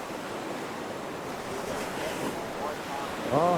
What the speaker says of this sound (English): Look at the waves coming up here.